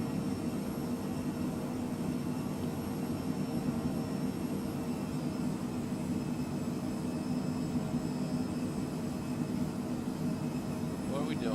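Steady, even jet engine drone of a Cockspur PH100 Phenom cruising in Microsoft Flight Simulator, a constant broadband roar with no breaks throughout.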